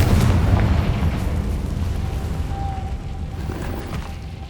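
Bombarda and Confringo spell blasts in the Hogwarts Legacy video game, a loud, continuous booming rumble that stays heavy throughout and tapers slightly near the end.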